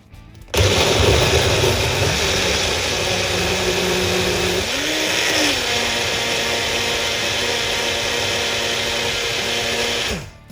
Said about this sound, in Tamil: வெங்காயம், தக்காளி, பச்சை மிளகாய், ஜீரகம், இஞ்சி, பூண்டு எல்லாத்தையும் நம்ம மிக்ஸி ஜார்லேயும் அரைக்க போகிறோம்